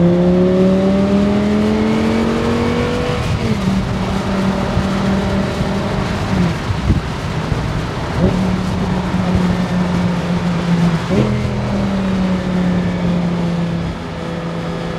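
An Audi R8 V10 Spyder 525 drives with its V10 engine revving loud and close, its pitch climbing through gears and dropping at shifts, over a constant rush of road and wind noise.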